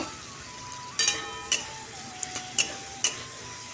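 A spice paste of cumin, ginger, onion and garlic fries in a pan with turmeric, giving a soft, steady sizzle. Faint clicks of stirring and scraping sound at irregular intervals over a thin, steady whine.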